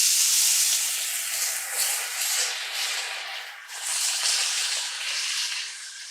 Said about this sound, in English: now we're going to add in our ground beef, and what we're going to do is we're going to break this up